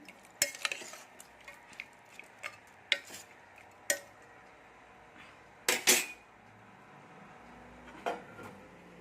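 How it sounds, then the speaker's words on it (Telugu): Mutton curry being stirred in a pot, with a spoon scraping and knocking against the metal sides in irregular clacks, close and fairly quiet between strikes, no speech. "వేసి ఒకసారి బాగా కలపాలి"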